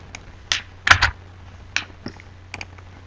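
A handful of sparse keystrokes click on a computer keyboard, irregular and close, in an otherwise quiet room.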